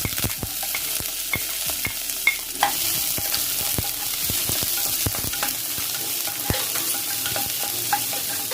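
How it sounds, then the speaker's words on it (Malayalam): Chopped onion sizzles in hot oil in a pan while broccoli thoran is cooked Kerala style. A constant loud hiss sits under frequent sharp pops and crackles, close by, with no voices. "ഇനി ഇതിലേക്ക് ഒരു സവാള ചേർത്ത് കൊടുക്കാം."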